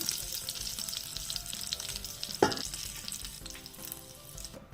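Goat meat frying in oil in a pan for a stew, a steady close sizzle with a brief louder crackle midway, no talking.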